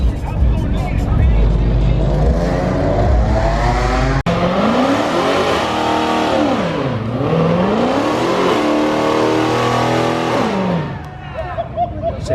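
A Dodge Hellcat at a street car meet revs hard, its engine climbing and dipping in repeated loud sweeps close by, with tire noise and crowd chatter underneath.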